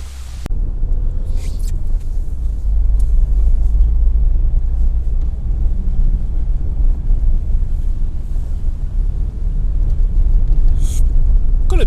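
A car on winter tyres drives over a mix of ice and slush, giving a continuous heavy low rumble of road and tyre noise inside the cabin with faint scattered splashes and crunches.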